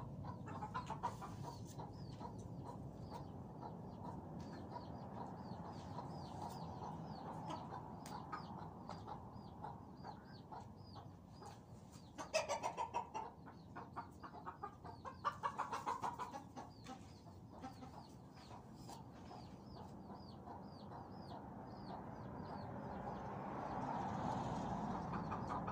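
Chickens cluck in a steady, busy chorus while being fed, with a few louder bursts of flapping and squawking partway through over a constant noisy background.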